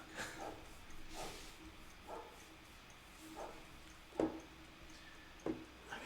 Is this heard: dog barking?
yes